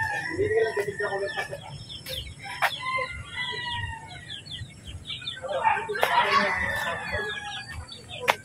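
Several chickens cluck and squawk at close range, with a rooster-like burst of calls near the middle and sharp flapping or knocking sounds. Voices talk in the background throughout.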